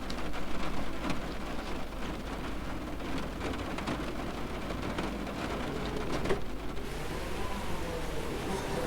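Steady simulated rain pours over a Class 314 electric train waiting at a signal in Train Sim 2021, a dense continuous hiss of drops with faint low rumbles beneath and no voices.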